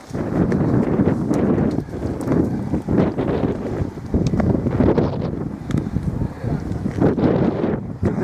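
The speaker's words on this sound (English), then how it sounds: "It's going to be windy." Steady strong wind roars across the microphone at a coastal fort in Malta, gusting loudly and continuously with brief bumps of handling; little else stands out.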